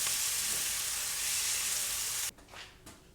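Garlic, onions and peppers sauté in a pan with a loud, close sizzle that holds steady for about two seconds, then cuts off abruptly, leaving a few faint stirring sounds.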